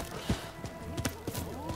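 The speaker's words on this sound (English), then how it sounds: "Let me get off the horse." Horse hooves clip-clop in the video game Rise of Ronin, a few uneven thuds spread across a short stretch, heard over game ambience with a faint background hum.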